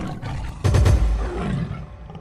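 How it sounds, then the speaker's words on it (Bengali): A tiger in a Sundarbans riverside cartoon lets out a sudden, loud, close roar that rumbles deep and then trails off, with no talking over it. "দুই পাশেই বাঘ আছে, রক্ষা পাওয়া যাবে না মনে হয় এবার।"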